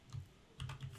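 Keys clatter on a computer keyboard in two short bursts of typing, close and clear with a brief pause between them, no voices.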